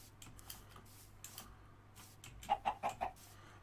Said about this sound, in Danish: Se, der er en kylling inde.